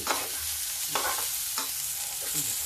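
Onions frying lightly in a pan for a fenugreek, pea and carrot sabzi, hissing steadily with a few scraping stirs, close and fairly loud.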